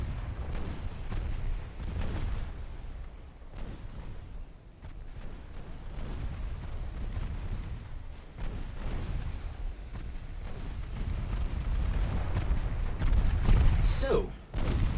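Naval artillery gunfire in the Ultimate Admiral Dreadnoughts naval warfare game, a steady low rumble of repeated cannon booms and blasts rolling across the whole stretch, with a sharper burst near the end and a voice talking over it.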